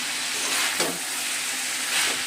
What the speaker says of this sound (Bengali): চিচিঙ্গাটা ভেজে নিই